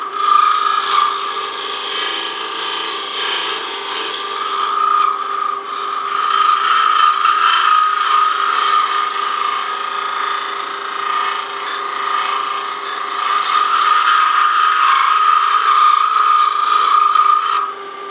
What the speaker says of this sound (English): I'm going to use my skew and scrape it just a tiny bit. Ash does a really good job of scraping.